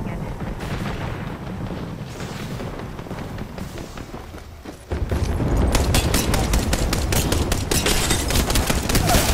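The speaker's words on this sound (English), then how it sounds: "Heads up, an airstrike coming in." Gunfire and an incoming airstrike in the Apex Legends video game, heavy continuous shooting and booming blasts that grow denser and louder halfway through, with rapid repeated shots close by.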